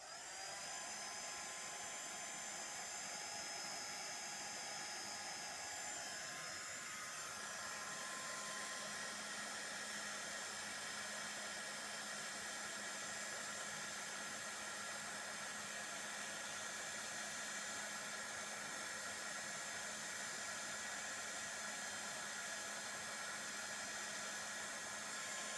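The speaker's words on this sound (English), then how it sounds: "I'm going to heat set this" A heat tool runs steadily for about 25 seconds, melting embossing powder on a Christmas card, a loud, continuous blowing whir that shifts slightly in pitch early on and otherwise holds constant, with no voices.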